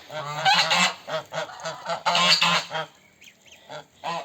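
Geese honk repeatedly in short nasal bursts, several calls overlapping, fairly close and moderately loud.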